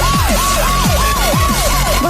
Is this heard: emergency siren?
yes